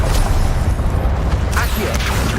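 An Incendio fire spell is cast in Hogwarts Legacy on PS5. A dense, loud rumbling roar is sustained throughout, with a few sharper bursts and whooshing flares near the end.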